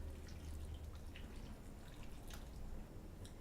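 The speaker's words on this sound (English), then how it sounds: "you're going to just gently pour it over your chocolate" Hot cream poured gently over chocolate to make ganache in a kitchen, a soft continuous liquid trickle with faint drips, steady and close for a few seconds with no talking.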